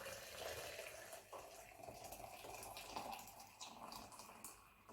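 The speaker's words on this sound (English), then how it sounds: "I'm just going to fill this with boiling water." Faint, continuous trickling of boiling water being poured into a tin for brewing a beer kit, a soft steady stream without pauses.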